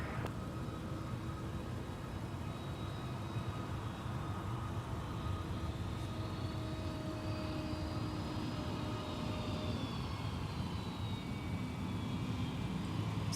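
An airliner taxis at Minneapolis–Saint Paul airport in the evening, its jet engines a steady, distant whining roar with a broad rushing hiss that holds level throughout.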